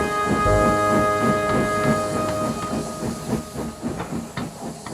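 A steam engine on a railway puffs away, rhythmic chuffs and hissing steam building steadily after a sustained whistle-like tone at the start.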